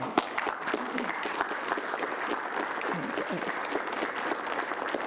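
Applause at a Kern County Board of Supervisors meeting, a steady roomful of clapping for the staff that holds evenly for several seconds, with a faint voice or two underneath.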